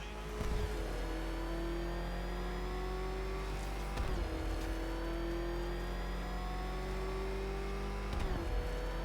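The Batmobile in Batman: Arkham Knight revs hard, a loud steady engine drone with high whining tones, jumping through gear shifts at regular intervals, about every four seconds, with no talking.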